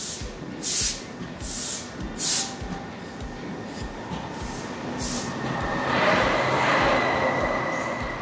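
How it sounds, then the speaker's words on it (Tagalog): A high-speed train in Spain rumbles and rattles as it pulls away, with rhythmic clacking wheels and hissing bursts building into a steady roar. "Iniwan na kami ng tren."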